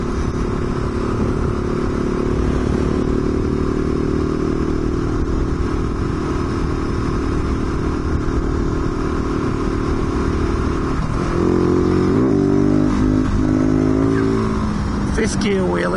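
A motorcycle engine runs steadily and loudly at speed on an open road, then revs up sharply in fifth gear as the rider pulls a wheelie, with the engine note climbing near the end.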